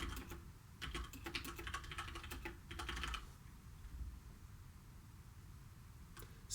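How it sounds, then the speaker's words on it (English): Fingers type on a computer keyboard in quick bursts of clicky keystrokes, close and moderately loud, with short pauses between flurries and a quieter stretch near the end. "So now let me type again."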